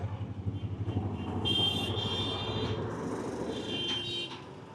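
Jammed road traffic on the way to the Ram Janmabhoomi temple in Ayodhya, with idling car and truck engines rumbling close by and a sustained high horn or buzzer tone blaring through the middle stretch.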